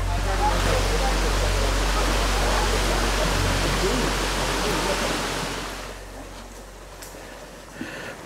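A waterfall roars as a dense, steady rush of falling water, loud and close for most of the stretch, then fades as the listener moves away from it.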